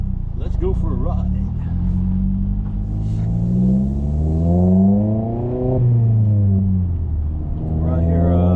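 An old school sports car drives near Pikes Peak, its engine rumbling loud and close, rising and falling in pitch through gear changes as it accelerates.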